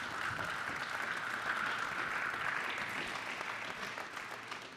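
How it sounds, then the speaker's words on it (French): Spectators at a talk on civilization and the future applaud in a steady, fairly faint patter of many hands that carries on evenly for a few seconds before easing slightly. "on peut applaudir pour ça"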